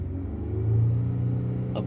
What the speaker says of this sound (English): We bring idle up into the 3000 range.